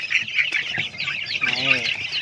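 Chickens being fed grain or mixed feed cluck close by in quick, overlapping bursts that run through the whole short stretch, with no talking over them.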